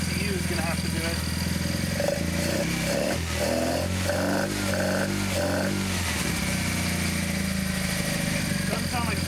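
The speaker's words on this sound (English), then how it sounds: "Doesn't sound like it's running on all cylinders." Engine idling roughly and unevenly as if not firing on all cylinders, a loping low rumble with irregular pulses and a few blips of throttle, continuous and close, with people talking over it.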